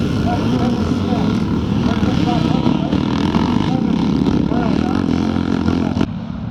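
Classic scramble race motorcycles, including a twin-shock Suzuki RM 400 and a Honda, approach loudly at close range with a steady, buzzing engine roar that holds throughout.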